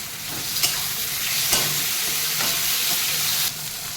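Tomatoes and onions frying together in oil in a pan for a crab curry, a loud continuous sizzle with a few stirring scrapes, close and without talk, easing slightly at the end.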